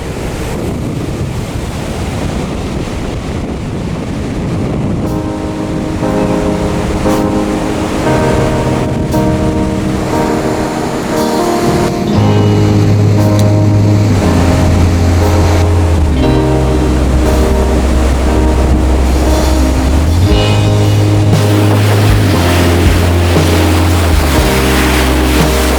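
Ocean surf rolls in at Rialto Beach, Washington, a constant loud wash of breaking waves mixed with wind buffeting the microphone, with no voices over it.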